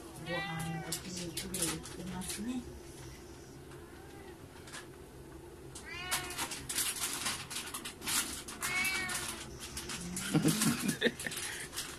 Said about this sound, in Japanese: この猫はちょっとうるさいですね。